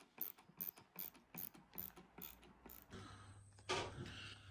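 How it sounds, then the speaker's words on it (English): A ratchet screwdriver driving hooks into wood, a rapid series of close, sharp clicking ratchet strokes in a steady rhythm, followed by a brief creak and mechanical scrape. "I'm just going in with a ratchet screwdriver"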